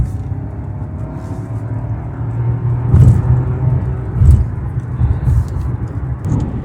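A Buick Envista car accelerates with a low, steady engine rumble and road drone heard from inside the cabin, swelling slightly in a few surges.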